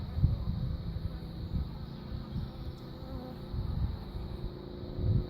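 Bees at a hive entrance from a newly captured swarm give off a continuous low buzzing drone that rises and falls in soft swells, moderately close, with no voices.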